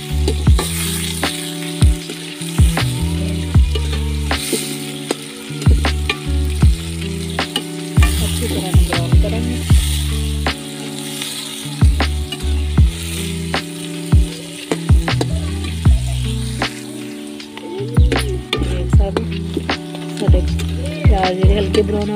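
Onions sizzle and fry in hot oil in a home kitchen pan, a steady crackling hiss broken by repeated clicks and scrapes of a spoon stirring, close and continuous with music playing faintly beneath.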